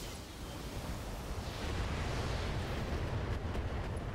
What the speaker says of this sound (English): So there's an ammo explosion.